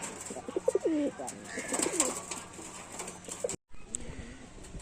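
Domestic pigeons, a Kaldom pair and Shinga birds kept for sale at a home loft, coo in repeated rising and falling calls close by, with a short break before softer cooing resumes.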